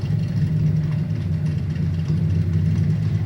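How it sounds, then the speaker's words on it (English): A motorcycle engine running at idle, giving a steady low rumble that stays even and fairly close throughout, with no voices over it. "Our motorcycle is about to join us."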